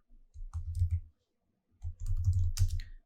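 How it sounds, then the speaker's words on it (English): Two short runs of keystrokes on a computer keyboard while entering an SQL command at the command line, quiet and close with a clear pause between the bursts of clicking. "So let's type in"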